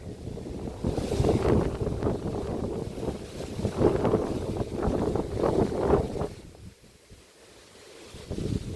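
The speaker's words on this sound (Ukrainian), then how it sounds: "Дуже вітер сильний." Strong wind buffeting the microphone in heavy, roaring gusts that rise and fall, briefly easing near the end before picking up again.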